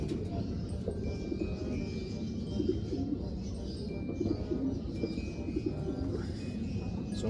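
Racing pigeons in a loft during basketing, a soft continuous murmur of cooing and low calls from many birds close by, with faint chirps and rustling over a steady background.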